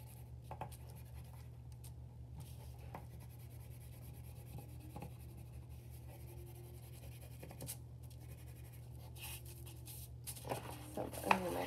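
Quick, rough coloring on paper for a paper fan rosette craft, a soft steady scratching and rubbing of a coloring tool close by, continuous under a low background hum.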